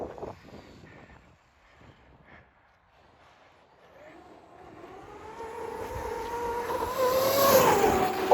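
An Arrma Kraton EXB 1/5-scale 8S electric RC car on a 30-tooth pinion sits near-silent with a few light clicks, then a rising motor whine climbs steadily in pitch and loudness as it accelerates away.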